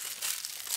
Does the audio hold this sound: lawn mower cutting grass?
no